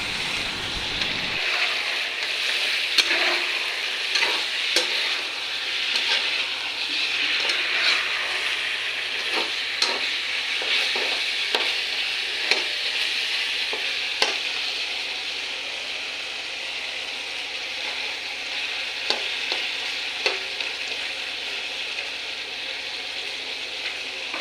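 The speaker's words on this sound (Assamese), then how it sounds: "মই আধা ঘণ্টাৰ ওপৰত মাংসখিনি ভাজি" Mutton frying in a pan for a homemade curry gives a steady sizzle, with scattered clicks and scrapes as the meat is stirred, close and moderately loud throughout.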